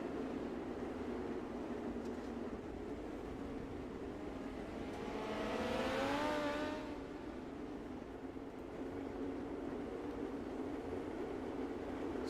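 Race cars running around a track under a steady distant engine hum, with one car passing nearby midway in a rising then fading whine.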